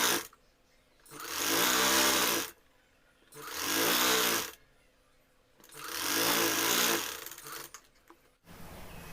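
A foot-pedal sewing machine stitches cloth for a puff sleeve, running in three steady whirring bursts of about two seconds each, separated by quiet pauses, close and loud with a rhythmic mechanical hum.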